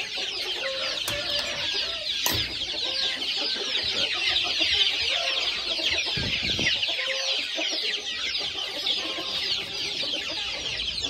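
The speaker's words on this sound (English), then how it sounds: "There goes my son's baby chickens." Baby chickens cluck and peep in a busy, continuous chorus close by on a farm, with occasional louder calls standing out from the flock.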